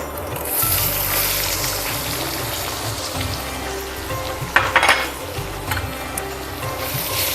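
Chopped onion fries in hot oil for chickpea khichdi, a steady sizzle with a few louder spitting bursts midway, under low background music.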